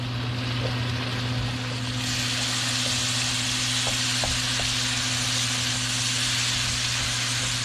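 Beef stir-frying in a hot wok gives a loud, continuous sizzle and hiss, getting stronger after a couple of seconds, with faint scraping stirs and a steady low hum beneath.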